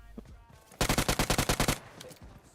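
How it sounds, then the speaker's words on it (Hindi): Burst of automatic gunfire in PUBG Mobile, roughly a dozen rapid, evenly spaced shots in under a second, loud and close, followed by a few faint scattered sounds. "आगे गोलियां काफी चल रही थी"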